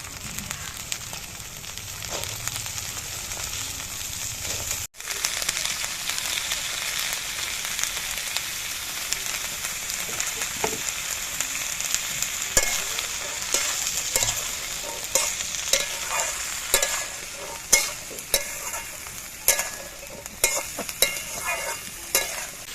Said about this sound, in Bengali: এবার এর মধ্যে পেঁয়াজকলিগুলো দিয়ে দিচ্ছি।